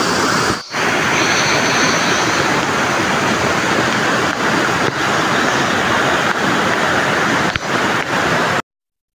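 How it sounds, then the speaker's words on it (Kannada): A waterfall on a forest stream that supplies drinking water to a nearby home in Kudremukh National Park roars in a loud, steady, unbroken rush, close up and alone, until it cuts off abruptly at the end. "ಇದು ನಮ್ಮ ಮನೆ ಹತ್ತಿರ ಇರುವಂಥ ಬಳ್ಳಿಕೊಂಡ ಫಾಲ್ಸ್ ಅಂತ"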